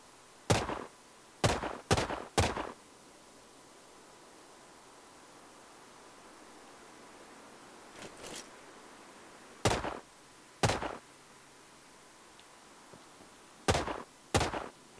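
Turret gunfire in the video game Sniper Ghost Warrior Contracts: sharp, loud shots in short clusters of two or three, separated by quiet pauses, against a steady hissing ambient background.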